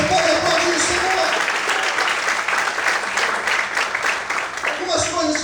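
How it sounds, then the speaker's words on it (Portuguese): Steady applause from a church congregation at a night service, broad continuous clapping throughout while a voice carries on over the noise. "Você pode aplaudir o Senhor."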